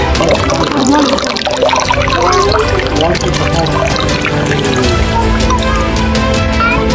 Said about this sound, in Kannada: ನೋಡಿದ್ರಲ್ಲ ನೀರು ಯಾವ ಥರ ಇಲ್ಲಿ ಬರ್ತಿದೆ